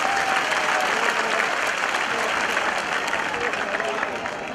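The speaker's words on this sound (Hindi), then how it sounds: "जोरदार तालियों से करबद्ध तालियों के साथ उनका अभिनंदन करें।" A large audience applauds at a convention at Talkatora Stadium in New Delhi: a dense, continuous wall of clapping that stays loud throughout and tapers slightly toward the end.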